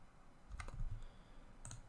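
A few quick, light clicks of a computer mouse come close to the microphone in a quiet room, with two or three taps clustered together and a pause between them.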